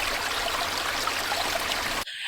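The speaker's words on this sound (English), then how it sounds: "This is our creek." A creek on a rural property runs in a steady, full rush of flowing water close by, cutting off abruptly at the end.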